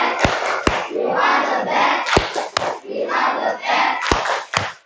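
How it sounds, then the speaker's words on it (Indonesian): A class of schoolchildren chants a spirit clap cheer together, with loud rhythmic group shouting punctuated by sharp, unified handclaps at irregular intervals. "Tepuk semangat dulu deh. Tepuk semangat."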